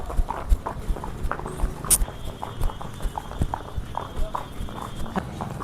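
Horse hooves clip-clop at a steady walking rhythm during a ride outdoors, close and fairly loud, with occasional faint background noise and a brief high whistle-like sound.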